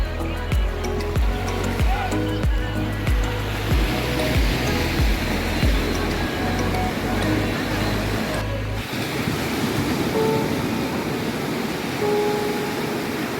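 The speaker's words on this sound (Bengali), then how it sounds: "যখন একটা ঢেউ আসছে একটু বড় বড়" Sea waves surge and break against shore boulders at Digha beach, a loud continuous roar of surf with wind noise buffeting the microphone, the crash easing midway into a softer wash, no speech.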